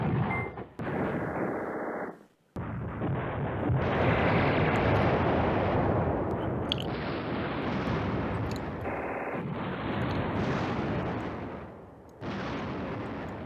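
Artillery fire from the wargame Command Ops 2 rumbles through a dense, loud stretch of booming shots and explosions with few gaps, sounding near and heavy, without any voices.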